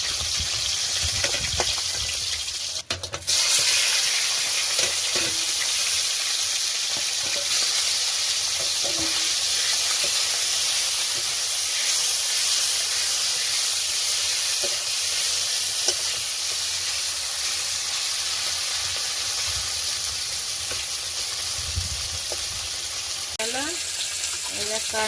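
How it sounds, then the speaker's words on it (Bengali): Pieces of freshly caught fish frying in hot oil in a home kitchen, giving a loud, continuous sizzle with occasional stirring clinks and spatters throughout, heard alone without talk. "আর এক খোলা মাছ ভাজা হয়ে গেছে, এবার তুলে নেবো,"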